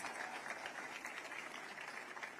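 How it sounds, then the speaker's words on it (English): An audience at an official healthcare intern posting event with the health cabinet secretary claps steadily for about two seconds, a soft, even patter of many hands heard from a distance. "Another round of applause for our super CS."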